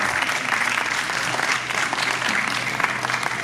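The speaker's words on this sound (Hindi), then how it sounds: "आप लोग जोरदार तालियां बजाते रहें।" Steady, dense audience applause at the Rachayita Sahityotsav Hindi poetry festival, a crowd clapping continuously and evenly, fairly loud and close, with no voices over it.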